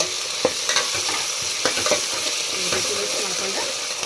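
A tomato and coriander mixture is stirred in a hot pan. A constant sizzle runs throughout, with repeated clicks and scrapes of the spoon against the pan.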